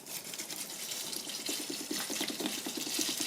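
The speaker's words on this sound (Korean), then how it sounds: "이런 생수병을 이용하셔서 계량하시면 딱 좋아요. 요걸로 5개만 딱 붓겠습니다." Water pours steadily from a bottled water bottle onto salt in a container, a continuous close splashing gurgle at low level with no talking.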